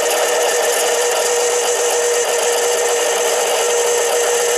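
A 7x10 Harbor Freight mini lathe turns 304 stainless steel lubricated with 3-in-1 oil, giving a constant, steady high-pitched machining whine and hiss with no breaks.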